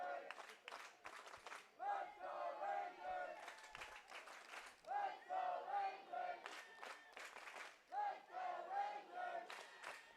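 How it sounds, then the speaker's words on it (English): High school football fans chant "Let's go Rangers" in a repeating rhythmic pattern, each chant followed by bursts of clapping, heard from a distance at low volume across the stands. "You can hear the crowd cheering, "Let's go Rangers,""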